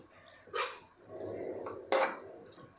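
Grated raw potato mixture, squeezed dry, is stirred in a pan with a spoon, giving soft scraping and two sharper clinks against the pan's metal. No one speaks.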